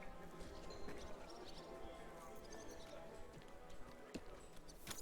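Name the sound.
horse hooves clip-clopping in video game Kingdom Come: Deliverance II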